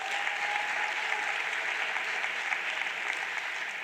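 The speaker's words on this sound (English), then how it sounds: "Another round of applause, please." Sustained applause from the audience at a ministerial announcement of NSC examination results, an even, dense wash of clapping heard steadily throughout at a moderate distance.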